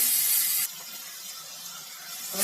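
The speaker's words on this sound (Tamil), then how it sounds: "தண்ணி கொஞ்சம் ஊற்றிக்கிறோம்" Water poured into a pan of vegetable kurma in a home kitchen: a steady splashing hiss of running liquid, loudest at the start and then softer and continuous, with no talking over it.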